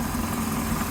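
A 1959 Cadillac sedan engine idling nearby, a steady low hum with a constant droning tone and no variation.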